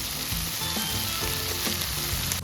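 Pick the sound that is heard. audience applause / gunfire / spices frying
spices frying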